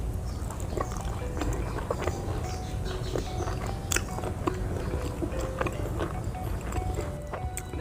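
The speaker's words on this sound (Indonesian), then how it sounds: "Kita cobain cuminya guys, sambal cuminya." Close-up biting and chewing of squid with sambal at a home meal, a steady stream of small wet crunches and smacks running without pause over a dense, noisy background, with no talking.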